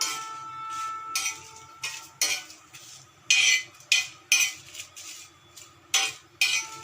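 Red chillies with stems removed are dry-roasted on a tawa over medium heat; a spatula scrapes and clinks against the pan in repeated short bursts, close up, with no talking.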